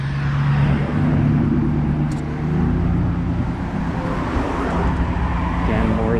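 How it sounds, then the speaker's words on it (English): Road traffic rumbles along Frankfort Avenue beside the old stone Pennypack Creek Bridge in Philadelphia's Holmesburg section, a continuous low roar of passing vehicles at a fairly loud, steady level. "there's a lot of traffic here on Frankfurt Avenue"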